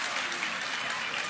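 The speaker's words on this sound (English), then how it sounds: "give her a round of applause." A brief burst of audience applause on a talk show set, a dense wash of clapping at moderate level.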